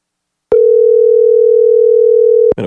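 A steady, loud telephone dial tone holds for about two seconds, opening and ending with a click while a call is placed, before a brief trailing sound.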